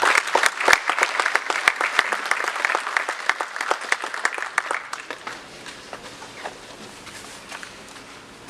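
Steady applause from a corporate summit audience welcoming a panelist to the stage, dense and close at first, then thinning into scattered claps as it fades.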